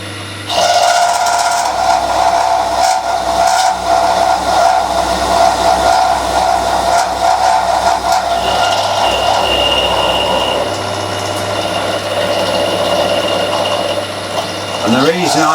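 A milling machine drives a 4-flute end mill through metal lubricated with neat cutting oil while machining a sine plate, giving a steady, loud grinding drone with a whining tone that runs almost unbroken for the whole stretch.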